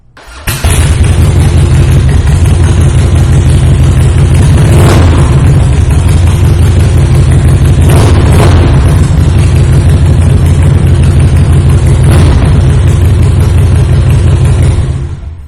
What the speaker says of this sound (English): I am going to take the opportunity right now to fire this bike up so you can hear that Vance and Hines short shots.